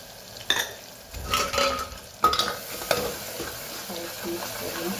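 Turmeric, coriander-cumin powder and chili being stirred in a hot pan, with a soft sizzle and a few scraping strokes of a spoon against metal, close and moderately loud with no talk.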